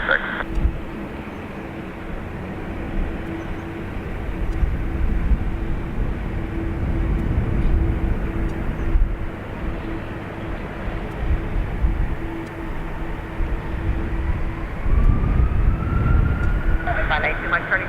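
A Boeing 757-200 airliner on its takeoff roll at Dublin Airport, a sustained distant engine roar building over eighteen seconds, with a radio voice talking over it.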